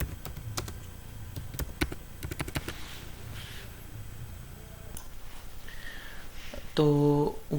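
Bursts of computer keyboard typing as networking commands are entered to configure a Layer 2 switch trunk port, followed by a stretch of quieter taps and a short electronic tone at the end.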